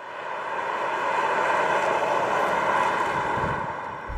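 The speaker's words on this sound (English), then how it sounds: "you hear a lot of road noise and tire noise" Steady road and tire noise inside a Tesla Model X at speed: a broad, constant rushing hum that swells slightly in the middle and holds even throughout, with no engine sound and no voices.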